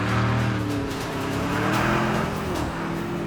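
Lamborghini Urus, a 2.4-ton SUV on normal road tyres, drives hard on a snowy road, its engine droning loud and steady with shifting pitch throughout.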